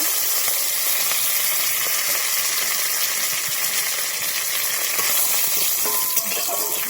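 Black mustard seeds, cumin and torn curry leaves fry in hot mustard oil in a wok as a loud, steady hiss. Faint pops and crackles run through the sizzle, with no talking.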